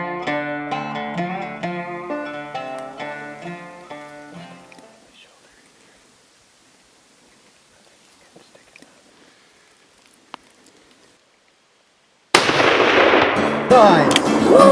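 A rifle is fired at a bull elk. Soft music fades into near silence with faint rustles and a single click, then a loud, abrupt blast breaks in and stays harsh and noisy to the end.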